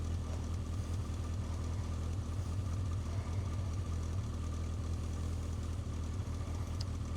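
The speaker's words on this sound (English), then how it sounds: "Leave her ticking over for a little bit, just getting warmed up" A 1980s Yamaha XJ900 motorcycle engine idles steadily while warming up, a close, continuous low rumble with an even throb and no voices over it.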